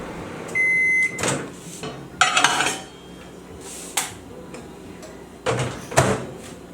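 A microwave beeps, its door clunks and clatters, and a few sharp knocks of dishes follow nearby, with no voices.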